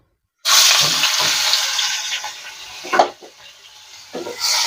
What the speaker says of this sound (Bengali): তেলটা গরম হয়ে গেছে আর চিংড়িটা ভেজে নেব